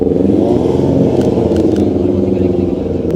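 A motorcycle passes on a street at night, its engine a steady, fairly loud droning hum with faint clicks and clatter over it.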